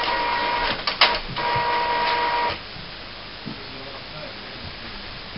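Epson RX-series inkjet printer fitted with a continuous ink supply system running its setup cycle: a steady mechanical whir with a sharp clack near one second, then the motor stops and the room goes quiet apart from faint ticks.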